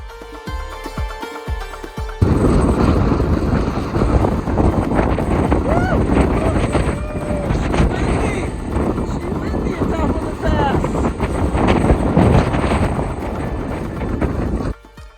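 Strong, gusty wind roars steadily through a boulder-strewn mountain pass at Indian Pass in the Wind River Range, rising abruptly after a quieter opening and buffeting loudly with microphone rumble until it cuts off near the end.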